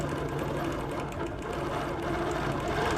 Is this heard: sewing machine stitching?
yes